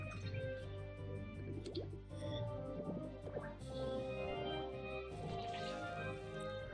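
A water-squirting attack from the cartoon video game Toontown sounds as wet dripping and squishing splashes over steady game background music, with several short liquid bursts in a row.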